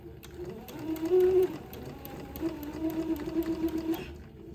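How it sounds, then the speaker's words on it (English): A sewing machine stitching around the curved neckline of a baby's daygown, a close, steady rapid whirring hum that runs in two bursts with a brief slowdown between, ending abruptly. "Just sew around the curve of the neck hole opening, right next to the entredot ladder"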